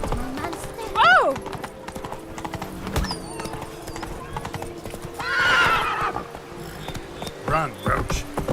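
Roach, the horse in The Witcher 3: Wild Hunt Blood and Wine, gives a loud whinny and a later neigh over a steady gallop of clip-clopping hooves, with a voice heard at moments.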